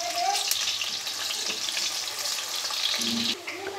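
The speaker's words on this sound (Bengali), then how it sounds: "দিয়ে পেঁয়াজটাকে সুন্দর করে একটু ভেজে নেব।" A cup of chopped onion frying in hot oil for chicken khichuri, a dense continuous sizzle close by with occasional stirring clinks, no voices.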